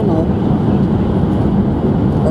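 Inside a Japanese bullet train running at about 140 km/h through the undersea tunnel linking Hokkaido and Honshu, a steady, dense low rumble and roar fills the space without letup, while a voice talks over it.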